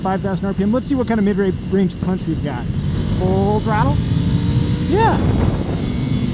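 Engine of a 2019 Ducati Scrambler pulling at full throttle in third gear from about 5,000 RPM, a steady loud drone with rising tones, while a rider's voice talks over it close to the microphone.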